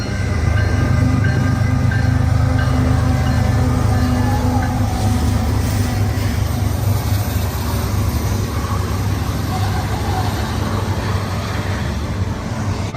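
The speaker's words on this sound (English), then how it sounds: "Like I said, we caught 2 trains here. CP KC 423" CPKC freight train 423 rolls past with a loud, steady low rumble of engines and rail cars. The sound holds close and continuous throughout.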